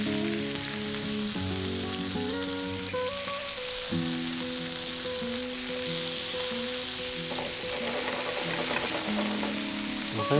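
Chicken strips fry in a hot pan with a continuous soft sizzle that runs beneath louder tonal music throughout.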